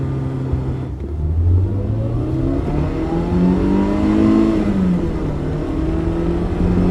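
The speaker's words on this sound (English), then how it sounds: "And then I'm cruising in third gear here. It's just rev happy." A BMW E30 M3 engine revs loud and close while cruising in third gear, its pitch climbing and falling in smooth sweeps with a steady rumble throughout and no talk.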